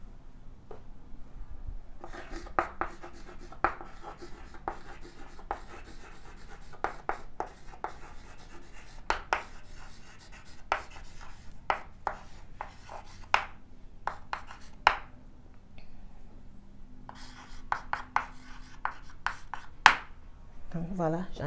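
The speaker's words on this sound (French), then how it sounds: "ce que je vais écrire au tableau" Chalk taps and scrapes on a classroom board in short, irregular strokes and clusters, fairly faint against a quiet room, with pauses between bursts of writing.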